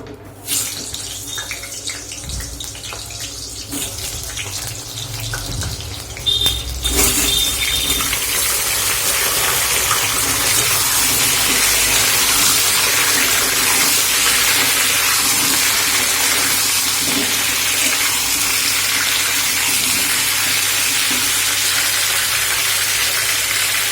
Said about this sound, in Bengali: তেলটা ভালো গরম হয়ে গেছে, আর আলুগুলো দিয়ে দিই এর মধ্যে